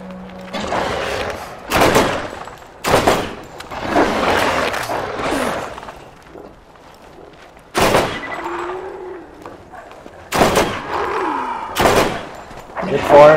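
Sharp gunshots ring out at irregular intervals in the shooter video game Borderlands, several loud cracks spread across the clip, mixed with creature noises and someone talking over the action.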